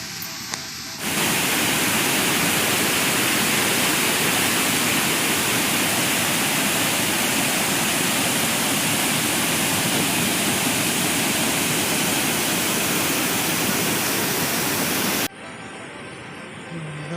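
Kao Chan waterfall at Suan Phueng, Ratchaburi, in forest with muddy water after rain, a loud, steady, close rushing roar of falling water that begins abruptly and stops near the end.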